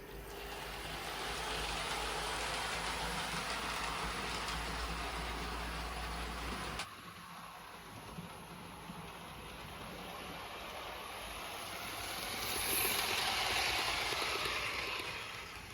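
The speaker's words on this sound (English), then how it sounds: "She's running very much like a new locomotive at this stage." A secondhand Hornby King Class model locomotive runs along its track at half power, a steady mechanical whir and rail rumble that holds constant, shifts at one point, and swells slightly near the end, with no talking.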